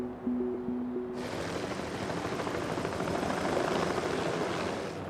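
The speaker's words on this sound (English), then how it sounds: "Helicopter is the only way in." Helicopter flying low over the devastated slopes of Mount St Helens, its rotor and engine noise starting abruptly and continuing as a steady broadband roar with faint rhythmic chop, moderately loud and close.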